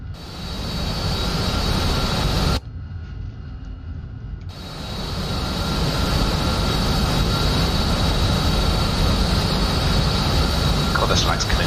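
A jet aircraft in a flight video game taxiing toward the runway: a loud, steady engine whine and roar that cuts out briefly, then returns and holds, with a voice talking over it.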